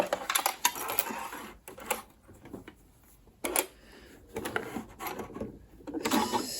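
A Janome Horizon Memory Craft 9480 QC Professional sewing machine stitches with a zipper attachment, short bursts of rapid mechanical chatter separated by pauses and handling sounds.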